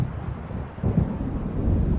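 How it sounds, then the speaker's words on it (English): A rolling rumble of thunder from an approaching storm in the Alan Wake video game, deep and continuous, swelling louder partway through with no voices over it. "It seems there's a storm coming."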